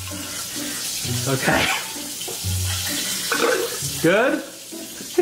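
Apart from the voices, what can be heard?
water running from tap in a video game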